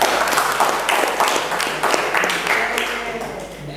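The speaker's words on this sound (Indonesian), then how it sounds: "tepuk tangan untuk Miftah." Students in a classroom clap for a classmate, brief scattered applause that fades out over a few seconds, mixed with voices.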